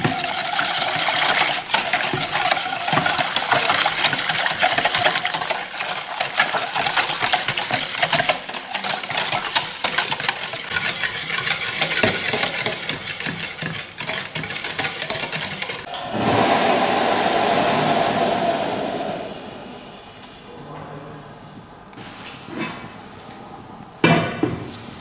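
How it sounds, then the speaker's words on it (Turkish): Grape pudding mixture being stirred hard in a pot before the heat goes on, a busy, continuous clatter and scrape of utensil against metal that runs loud for about fifteen seconds, then thins to scattered taps. "İlk başta altını açmadan iyice karıştırıyoruz."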